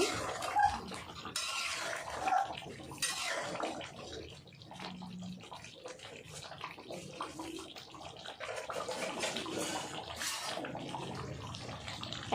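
Dum aloo with a little garam masala is stirred in a pan, with a continuous wet, hissing sizzle broken by scattered spoon clinks and scrapes, close and without voices.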